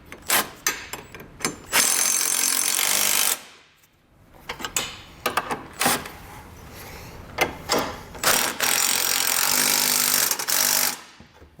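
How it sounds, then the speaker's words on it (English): A 3/4 inch socket and wrench tighten nylon lock nuts on a base plate kit for a 2019 Chevrolet Equinox, giving long loud ratcheting runs of rapid clicks broken by short pauses. "we're gonna come back with a 3/4 inch socket and wrench"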